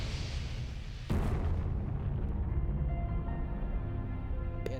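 A deep, rumbling boom of a crater-forming explosion on the Moon erupts suddenly and rolls on as a long, heavy roar that slowly fades, with no voices present.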